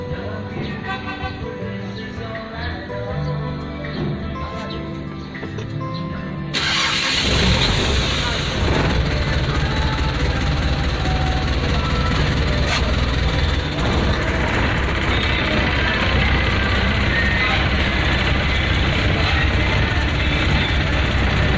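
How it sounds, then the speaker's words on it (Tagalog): An engine cranks and fires up partway through, then settles into a loud, steady idle; quieter background sounds come before it starts. "Tayo ay paanda rin din natin yan para medyo painitin natin ang makina."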